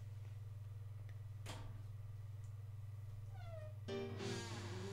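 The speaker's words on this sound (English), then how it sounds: "That's my cat trying to get in." A house cat meows at a door, trying to get in: a few separate rising meows, the clearest near the end, over a steady low electrical hum in a quiet room.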